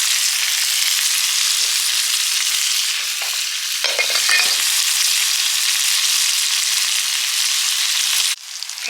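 Eggs and bacon frying in a pan give a loud, dense, continuous sizzle, with a few scraping touches midway and a brief dip near the end.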